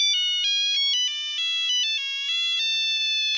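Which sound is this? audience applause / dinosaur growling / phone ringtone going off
phone ringtone going off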